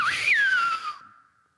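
A loud finger whistle in the Silbo whistled language of Tenerife: a sharp rising sweep peaking then gliding steadily down in pitch, held for about a second before stopping abruptly, followed by a faint fading tail.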